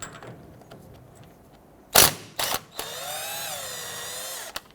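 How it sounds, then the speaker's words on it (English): A 15/16 jam nut is loosened with a power tool on the steering rack of a 2005-2021 Nissan Frontier, with two short loud bursts followed by a steadier whirring run, close and otherwise quiet. "we'll go ahead and remove our jam nut"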